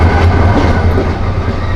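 The Parabat Express train runs on the Dhaka-Sreemangal rail route, with loud, close rumbling wheels and a dense rattling clatter throughout, no voices.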